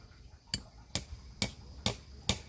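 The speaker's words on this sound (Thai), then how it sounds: "เราจะใช้ตะปูหรือจะใช้ไม้แหลมก็ได้ ตอกไปถึงแกนในของต้นขนุนเลยครับ" A nail or sharpened stick driven into the trunk of a jackfruit tree with a hammer: five sharp, close strikes land at an even, unhurried pace, with no talking.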